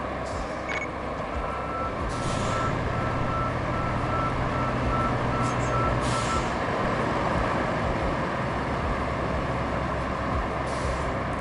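Trucks reverse in the Roadcraft video game, a steady repeating backup beep over a loud rumbling diesel engine, with brief hissing bursts like air brakes.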